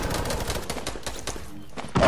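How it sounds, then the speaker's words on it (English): Rapid automatic gunfire crackles in a Fortnite match, a dense stream of shots with brief gaps, loud and close, ending in a sharper burst. "Oh, it's excessive shooting."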